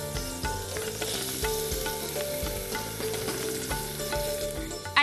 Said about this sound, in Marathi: त्यानंतर मी ह्याच्यात टाकते काकडी.